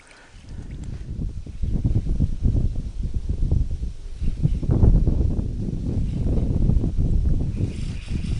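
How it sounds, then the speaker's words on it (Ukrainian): Steady rumbling wind buffets the microphone outdoors while fishing, with low gusty noise throughout and no voices. "Вітер."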